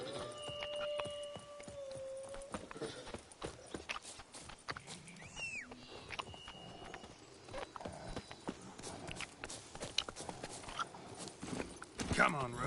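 Roach, a horse in The Witcher 3, clip-clops along at a steady rhythmic gait with an occasional whinny, under game music and someone talking over the top.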